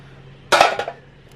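A metal pan knocked about in a trash pile gives one sharp, loud clank with a brief ringing rattle right after, then quiet.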